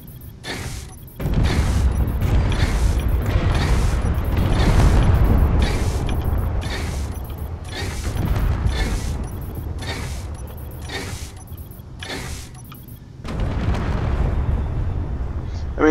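A MAC cannon in the game Space Engineers fires in rapid succession, a long run of heavy booming shots in a steady rhythm with a brief pause near the end before firing resumes.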